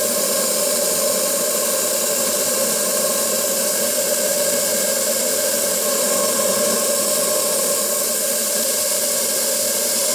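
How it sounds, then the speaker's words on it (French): A restored boiler vents dry steam in a loud, unbroken hiss that stays constant and close for the whole stretch, with no voices. "Là, la vapeur est assez sèche."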